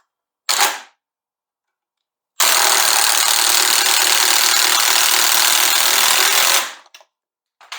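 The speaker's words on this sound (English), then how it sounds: "let's throw a 9/16 socket on our handy screw gun" A screw gun fitted with a 9/16 socket loosening the motor adjuster plate bolt on a go-kart: a brief whir, then a loud, steady high-pitched spin of about four seconds that winds down, with no talking.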